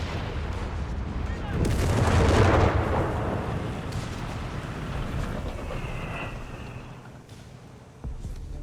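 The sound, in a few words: artillery bombardment in video game Company of Heroes 3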